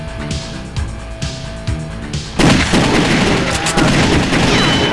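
Gunfire from the House of the Dead 2 arcade game comes in a few spaced shots, then erupts into a loud, dense barrage of blasts with game sounds behind.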